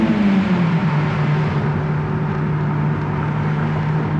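A 2001 Honda S2000's engine holds a loud, steady drone after a brief drop in pitch, running continuously and close with no voices over it.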